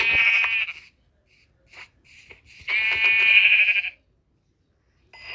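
Synthetic-sounding Minecraft sheep bleats, a short one, a faint brief one, then a longer drawn-out bleat, with quiet gaps between.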